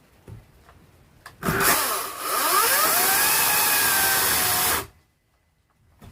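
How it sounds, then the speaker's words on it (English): A Ryobi 18-inch 40-volt brushless cordless electric chainsaw cutting firewood revs up sharply and runs at a steady high whine for about three seconds, then cuts off abruptly into quiet. "And remember to let the chainsaw do the cutting."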